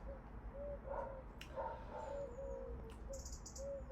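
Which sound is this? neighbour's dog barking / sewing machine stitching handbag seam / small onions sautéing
neighbour's dog barking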